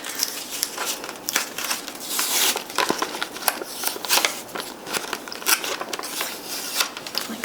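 Siser Easy Puff glitter heat transfer vinyl being peeled from its carrier sheet, a close, continuous crackly rustle of plastic film with small snaps and crinkles, steady and moderately loud with no voice over it.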